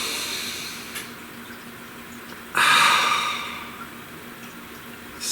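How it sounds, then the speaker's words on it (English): A person takes one deep breath, a brief, fairly loud breathy rush that rises suddenly and fades over a couple of seconds, with quiet hiss before and after and no speech. "Please, take a nice deep breath."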